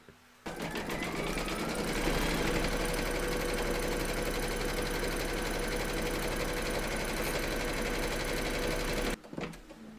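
An embroidery machine stitching through batting in the hoop, a fast steady mechanical whirr and rapid needle chatter running nearly nine seconds at close range before stopping abruptly.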